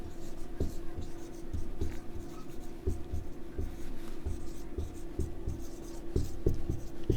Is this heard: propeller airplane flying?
no